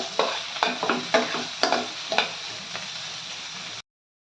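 Onions fry and sizzle in a pan while a spoon stirs them until browned, with a steady hiss broken by repeated sharp scraping strokes that fade toward the end before stopping abruptly.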